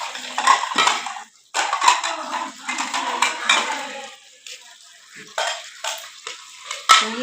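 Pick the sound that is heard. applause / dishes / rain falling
dishes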